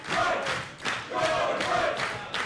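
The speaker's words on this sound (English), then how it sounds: "The crowd really behind Jordon Breaks here." A wrestling crowd cheers and roars in loud, surging waves during a match, with rhythmic rises like chanting or stomping.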